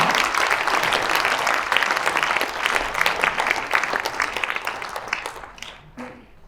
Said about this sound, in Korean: 저희 청년들 위해서 격려의 박수 한번 보내주시기 바랍니다.